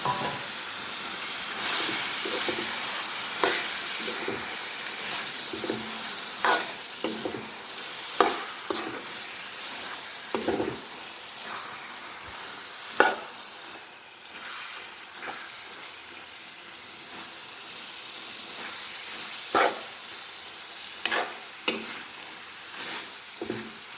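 Meat sizzles and fries in a pan of spiced onion masala, with repeated scraping and stirring strokes over a steady hiss, close and moderately loud throughout.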